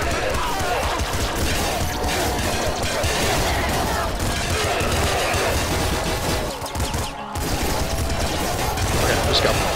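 Dense, nonstop rapid gunfire and explosions in Nuclear Throne, a loud chaotic barrage of shots blending into a continuous roar with only a brief dip near the end.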